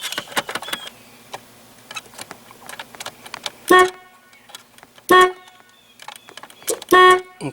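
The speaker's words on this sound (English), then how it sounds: "got this to honk without taking it apart, just by get the wheels off the ground" A third-generation Camaro horn with a fault, sounding in three short separate honks at irregular gaps, with soft clicks and ticks from the steering column between them.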